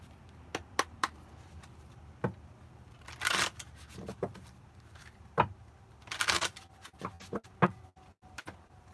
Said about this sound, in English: So I'm just gonna do some shuffling while I wait for